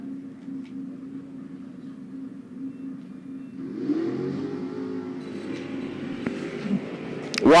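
A Camaro drag racing car revs at a Sonoma bracket drag strip, its engine note swelling louder about halfway through and holding a strong, steady roar to the end, with no talk.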